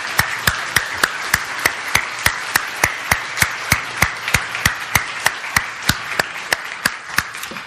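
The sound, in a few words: audience applause in church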